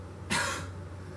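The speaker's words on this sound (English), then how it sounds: "the only thing that I still have is like this perpetual cough" One short, sharp cough from a person with a lingering post-COVID cough, close and dry, standing alone over a low steady room hum with no speech.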